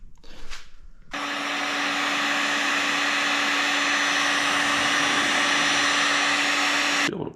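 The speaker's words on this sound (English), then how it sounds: "we're also gonna use our orbital sander to kind of cut through some of this" An orbital sander works on motorcycle plastic on a Yamaha TT-R 125, whirring loudly and steadily for about six seconds with a constant high hum before cutting off.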